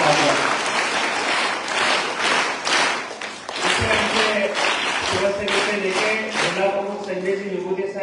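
A crowd at an organ donation awareness event claps hard and steadily, with a few thumps and a brief dip before the applause swells again.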